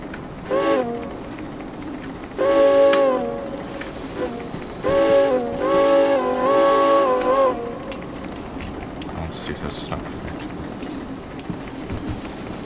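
A steam locomotive in the video game Derail Valley runs with repeated loud whistle blasts, several long harmonic toots in bursts over steady mechanical rumble, with a brief high squeal near the end.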